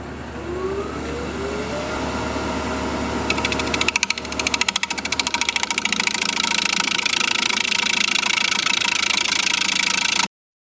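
A woodturning tool is sharpened on a powered grinder: a steady motor hum, then a harsh, continuous grinding rasp joins in partway through and runs loud until it cuts off abruptly.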